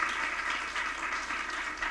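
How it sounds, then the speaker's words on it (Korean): Steady applause from a church audience, a dense wash of many hands clapping continuously throughout. "마음을 다해서 다시 한번 박수로 표현하도록 하겠습니다."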